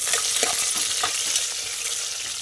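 Onion dropped into hot oil sizzles steadily and loudly, a dense continuous crackle with light stirring scrapes, close and without talk.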